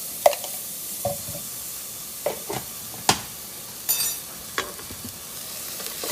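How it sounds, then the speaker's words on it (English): Onions, with garlic added, cooking in a pan for Zuppa Toscana, heard as a faint low sizzle broken by a few sharp stirring scrapes and clinks spread through the stretch, with no talk. "These onions have been cooking here for about 5-7 minutes or so."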